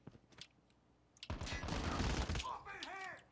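A sustained burst of automatic gunfire in Call of Duty Mobile lasts about a second, preceded by a few isolated shots, then the sounds of the game take over.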